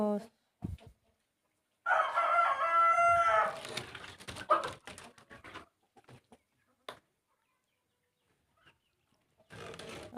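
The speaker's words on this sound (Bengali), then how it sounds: "আর এগুলো হচ্ছে মোরগের বাচ্চা কিছু ছোটো কিছু বড় হয়ে গেছে আর কি এগুলো সবগুলোই দেশি মুরগি" Desi chickens with young roosters of mixed sizes, some small and some half-grown, crow and cluck nearby in a loud burst lasting a couple of seconds, followed by scattered faint clucks and rustling on a quiet farm.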